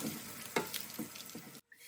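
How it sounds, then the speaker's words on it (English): Fresh garlic frying in hot oil in a home kitchen, a close steady sizzle with a few stirring scrapes, cutting off abruptly near the end. "He's put some fresh garlic into the hot oil, just frying it for a little bit."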